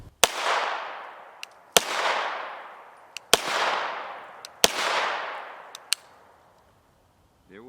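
Four loud, sharp 9mm 115gr FMJ Turan gunshots fire from a UTAS UT9 Mini with a 6-inch barrel, evenly spaced about a second and a half apart. Each crack rings out in a long fading tail, with small metallic clicks in between.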